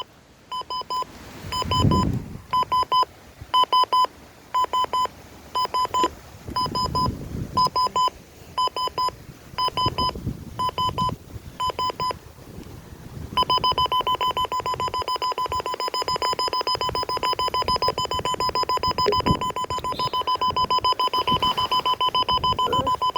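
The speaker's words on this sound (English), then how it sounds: "Oh, there's the alarm clock." A WR300 weather radio alarm clock beeps in short repeated bursts with some handling noise, then switches to a steady, continuous rapid beeping that goes on loudly.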